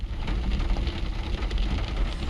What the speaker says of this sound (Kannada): ಈಗ ಮತ್ತೆ ಮಳೆ ಶುರು ಆಗ್ತಾ ಇದೆ